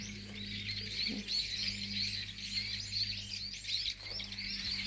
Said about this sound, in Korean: 새소리가 너무 좋다